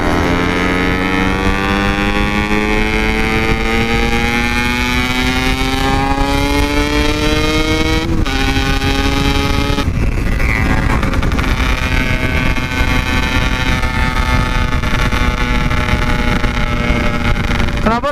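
Yamaha RX King two-stroke motorcycles race at night, a loud close engine whine with rising pitch sweeps as the rider shifts through gears, over constant wind buffeting.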